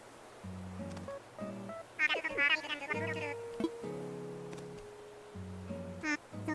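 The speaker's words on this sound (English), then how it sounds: "He has a phone call, Tom Nook does." Tom Nook's phone call in Animal Crossing: New Horizons, rendered as short bursts of synthetic babble-speech tones and chiming beeps in an uneven rhythm, with a player voice chatting over parts of it.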